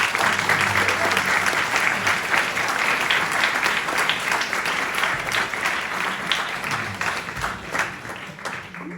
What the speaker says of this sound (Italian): chiedo al pubblico un caloroso applauso meritativo.